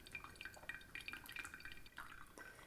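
Hot water poured over ground coffee in a pour-over brewer, heard as a soft continuous trickle and splash with small drips, quiet and close, with no voices.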